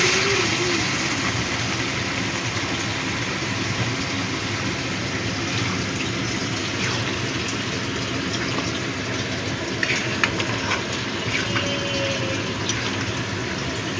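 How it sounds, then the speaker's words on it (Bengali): Hot water is poured steadily into a pan of soy chunk (Nutrela) curry, giving a continuous broadband gushing and filling sound that holds level for the whole stretch, with a few faint clinks near the end. "এবার দিয়ে দেব পরিমাণ মতো গরম জল"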